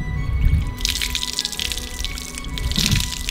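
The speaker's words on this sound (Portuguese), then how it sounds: "vamos passar a água e ver se isto sai tudo" Water runs over a sauce-stained t-shirt being rinsed, as part of testing a shirt meant to resist getting wet or stained. A loud, steady splashing stream starts just under a second in and continues to the end, with no talking.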